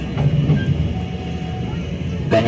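A Motis Nataru economy passenger train runs on the rails between Jakarta and Yogyakarta, giving off a steady low rumble and rattle inside the carriage, with a brief louder clatter near the end.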